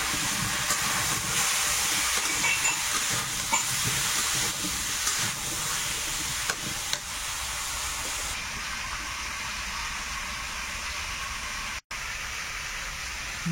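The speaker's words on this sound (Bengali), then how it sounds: "লবণ হলুদ দিয়ে প্রথমে একটু ওলটা ভেজে নিই।" Elephant foot yam pieces fry in oil with salt and turmeric, giving a steady, even hiss that carries on without pause at moderate loudness.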